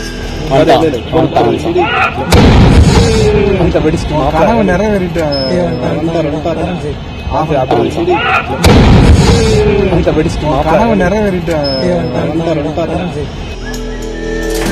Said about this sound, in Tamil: சண்டை காட்சிகளை படமெடுக்க இந்த குண்டுவெடிப்புகள் நிகழ்த்தப்பட்டுள்ளன